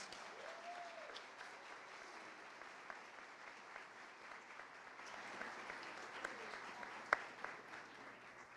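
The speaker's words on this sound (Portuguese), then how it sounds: "eu queria uma salva de palmas para os mentores aqui agora, a todos eles" Steady, dense applause from a crowd fills the room at a tenth-anniversary Família Gauss event, sounding fairly faint and distant, with a few brief louder claps near the end.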